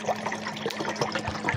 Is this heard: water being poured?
yes